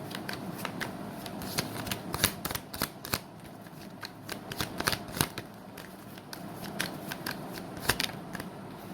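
Tarot cards are shuffled by hand in a steady run of crisp riffling clicks and soft slaps, close and fairly quiet, with no voice over them.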